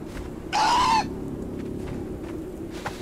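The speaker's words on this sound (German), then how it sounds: "Oh, ein Vogel, der jagt dich." Bird squawk in the video game Conan Exiles: one loud, rising-and-falling screech lasting about half a second near the start, standing out over a steady low ambient game hum, with no talk.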